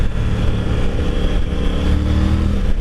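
Triumph Tiger Rally Pro 900 motorcycle engine under way, a steady loud mid-pitched drone with slight rise and fall in revs, continuous for a few seconds and no voices.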